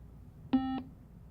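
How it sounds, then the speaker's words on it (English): A short synthesized triangle-wave beep on the note C, a single clean tone lasting about a quarter second amid near silence. "mostly silence with a little beep at the beginning"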